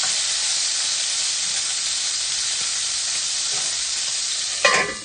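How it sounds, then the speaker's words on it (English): Meat searing for chile verde in a hot pan, a loud, steady, close sizzle and hiss that runs without a break, with a brief clatter near the end. "all I'm doing is getting that nice sear on both sides"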